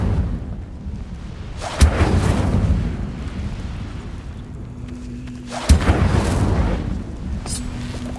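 Two heavy fiery bursts from the Incendio spell in Hogwarts Legacy, each a sharp boom with a rumbling roar trailing off, several seconds apart, close and loud.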